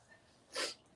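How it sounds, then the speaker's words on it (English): A single sharp sneeze bursts out close up, brief and breathy, in an otherwise quiet room. "Hang on, now I gotta sneeze."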